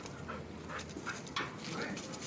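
A dog pants and whimpers close by in quick, breathy bursts with short whines, while people talk in the background.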